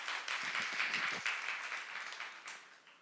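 A church congregation at a youth service claps together, a burst of dense applause that swells, holds briefly and then thins out over a few seconds.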